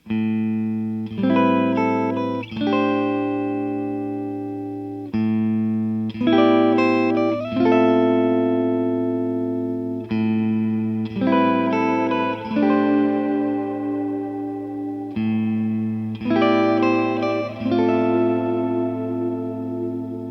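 Repeated sustained synth-like chords ring out with a very long reverb decay. Each phrase washes into a lingering tail, and a constant low drone runs beneath, with no talking.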